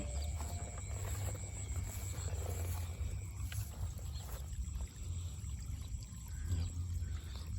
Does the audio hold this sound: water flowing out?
yes